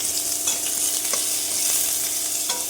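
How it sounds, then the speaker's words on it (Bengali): Onions fry in oil, with garlic frying alongside, in a steady close sizzle while a utensil stirs through them with a few soft scraping clicks, and no one speaks. "এই পেঁয়াজটাও ভেজে নিব, একটু কালার করে ভেজে নিব।"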